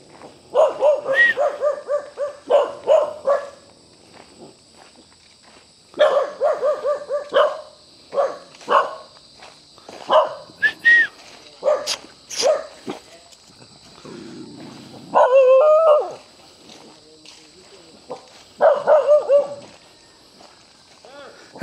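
Dog barking outdoors near the Bawa River and dam, with loud barks in repeated clusters separated by short pauses, and people talking nearby.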